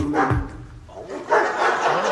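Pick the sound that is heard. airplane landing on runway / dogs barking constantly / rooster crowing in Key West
dogs barking constantly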